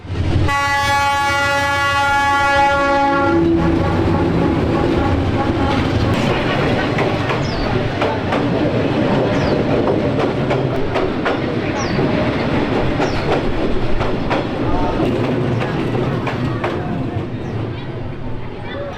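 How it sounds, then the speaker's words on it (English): A train horn blares loudly for a few seconds, then a heavy train rumbles and clatters past very close along a street track through Hanoi, with houses and shops alongside, continuous and loud throughout. "The Hanoi street train is a train line that cuts right through the city"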